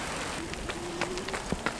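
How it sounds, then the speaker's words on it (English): Heavy rain pours outdoors during a running workout, making a steady broadband hiss with a few scattered louder drop taps throughout. No one speaks. "So it started to rain fairly heavily"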